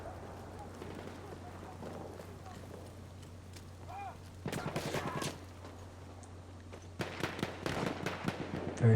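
Gunfire in the video game Battlefield One: scattered sharp shot bursts around the middle and near the end, over a steady low hum and quiet background noise, with no talk.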